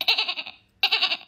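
A voice imitates a goat, two quick nasal bleats with a short pause between them, close and clear.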